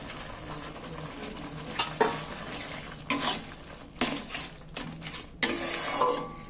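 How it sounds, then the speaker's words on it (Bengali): Spinach being added and stirred into a dal gravy in a pan, a series of scraping, clattering utensil strokes against the metal over a low sizzle, close and moderately loud. "এইবার আমি পালং শাকটা দিয়ে দিচ্ছি এর মধ্যে"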